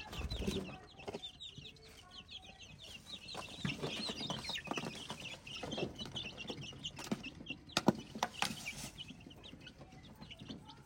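Chicks cluck and chatter continuously nearby while being fed, a busy flock with scattered sharper calls and faint background rustling.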